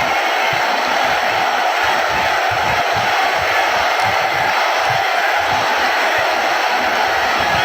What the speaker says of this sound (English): Outstanding crowd here at this stadium today, and they're very vocal right now